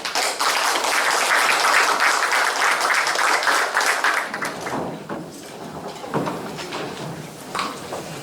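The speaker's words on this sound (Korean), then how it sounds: "박수로 좀 환영해 주시겠습니까?" An audience at a culture forum in Sejong breaks into dense, steady applause that holds loud for about four seconds, then thins into scattered claps and a few knocks as the room settles.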